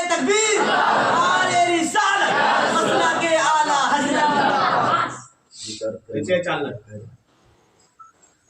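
Large crowd at a religious debate gathering roars back slogans in unison, a loud massed chant lasting about five seconds, then breaking into scattered shouts and voices that fade out.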